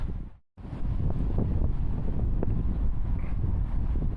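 Strong wind roars steadily across the microphone on a narrowboat roof, with loud low rumbling buffeting, briefly dropping out near the start before resuming without pause.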